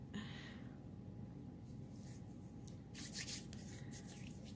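Fingers rub polymer clay residue off with alcohol, a faint close-up series of soft, brushy swishes that bunch together toward the end.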